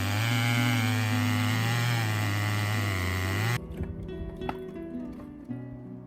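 Chainsaw running near a woodland cabin, a loud, close, steady engine whine that rises slightly, then cuts off abruptly partway through, followed by quieter clunks and rustling as wood is handled.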